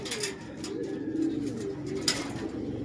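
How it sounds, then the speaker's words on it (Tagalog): A pigeon coos softly in low repeated notes over a steady background hum, with a few faint higher chirps. "Ayan, meron tayong ibon."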